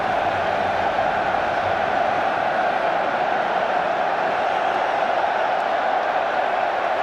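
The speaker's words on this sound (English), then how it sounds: "Crowd making their own amusement at the moment." Spectators at a 2004 Spain versus England football friendly fill the stadium with a steady, dense crowd roar that holds evenly throughout, with no single cheer standing out.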